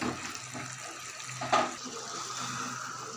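Hot water pours into a pan of mutton liver curry, a steady splashing gush with a brief louder burst midway, heard alone without talk.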